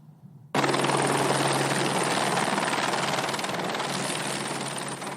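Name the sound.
LA County Sheriff's Department helicopter landing at medical center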